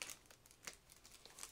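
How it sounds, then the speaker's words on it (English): A plastic medication packet for an apomorphine pump being cut open with scissors, a few soft, close crinkles and snips at low volume, with brief sharp rustles spaced irregularly. "So I open that with the scissors like that,"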